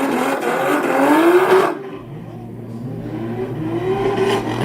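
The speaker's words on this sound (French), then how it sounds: "le 166, Xavier Diebold qui va pouvoir s'élancer avec la E92 Joker" A BMW E92 drift car launches at a drift competition, its engine revving loud and strained before backing off, then climbing again with a lower, more distant drone.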